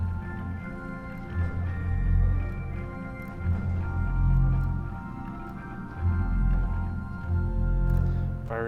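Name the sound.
pipe organ 2-foot stop combined with 8-foot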